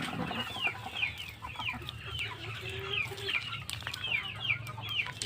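Chickens cluck repeatedly on a provincial farm where ducks and turkeys are also kept, a steady run of short calls at moderate distance over low background noise.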